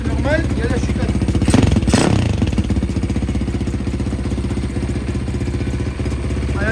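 A Varetti 150 SM supermoto motorcycle from MMX, fitted with an exhaust baffle, runs at a steady, muffled idle with rhythmic low thumping. A brief revving swell comes partway through before it settles back to an even idle.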